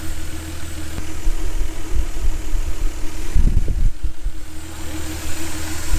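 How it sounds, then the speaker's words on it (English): A 1988 Toyota Supra Mark III with the 7M-GTE engine idles steadily, a low, even rumble with a faint fan whir and a brief rougher surge midway, close and continuous. "The 7 MTE engine."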